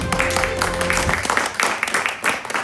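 A crowd claps in a dense, steady patter, with a voice briefly audible over the start of the applause.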